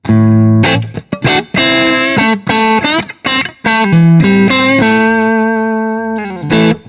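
A loud, thick electric guitar tone through a Hughes & Kettner Ampman Classic amp at maximum power sag plays a sustained melodic line, slightly gritty and compressed, with notes ringing into each other and no speech.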